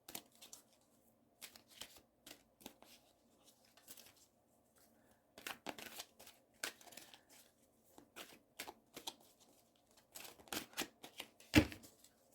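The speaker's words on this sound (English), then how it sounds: "Three more shuffles." A deck of tarot cards is riffled and shuffled up close in quick, papery bursts of flicking and snapping, pausing briefly between rounds. One sharp slap of the cards lands near the end, and no one speaks.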